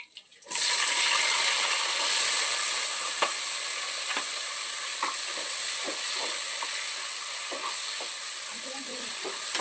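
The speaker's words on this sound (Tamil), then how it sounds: "சரி, வெங்காயத்தை போடுறேன். பொடியுது." Onions dropped into hot oil with mustard seeds sizzle steadily in a home kitchen pan, a loud continuous frying hiss broken by small pops and crackles, with no talk over it.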